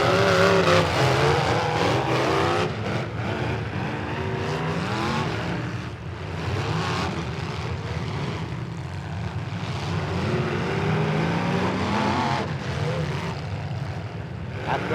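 A 25-car heat of pro stock race cars roars around the track, engines blaring in a steady dense drone with passing surges and swells, loud and continuous.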